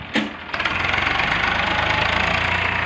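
A tractor engine runs steadily close by during a machine maize harvest for fodder, a loud chugging drone that starts after a short knock and keeps an even rhythmic throb.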